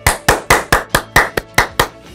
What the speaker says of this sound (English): I hope you're clapping.